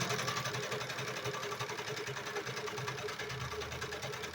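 Sewing machine stitching along the edge of a hemp cloth fitted diaper, a steady fast mechanical whir with rapid needle ticking, close and continuous, alone without talk.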